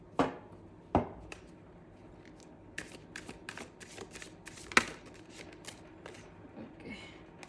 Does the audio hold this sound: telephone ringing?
no